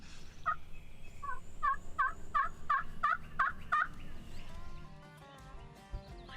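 Wild eastern turkey toms gobble in a rapid string of about ten rattling bursts, fairly close, with softer calls and rustling after the string fades.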